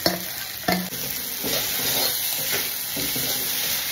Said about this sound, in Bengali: মশলা হয়ে গেছে কষানো, এবারে দিয়ে দেবো মাছের মাথা